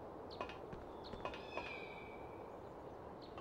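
A kitten in a Harry Potter video game gives several short, faint meows spaced apart over a steady background hum and soft ambient noise. No one talks.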